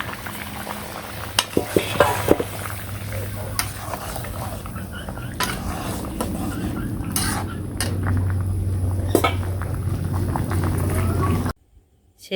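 Chicken curry being finished in a pan with sugar, garam masala and cumin paste added, giving steady low sizzling and bubbling with scattered clinks and scrapes of a spoon against the pot, close up and without talk.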